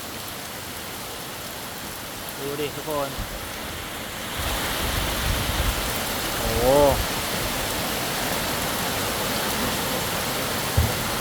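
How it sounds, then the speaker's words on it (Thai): Heavy rain in Kanchanaburi, Thailand roars steadily, growing suddenly louder partway through as if exposed to the open air; someone speaks briefly over it. "ฝนตกหนักนะฮะ"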